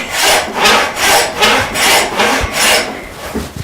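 A handsaw resawing a wooden beam lengthwise, about seven loud rhythmic strokes back and forth, each a rasping swell of teeth cutting through wood, close and steady with no talk.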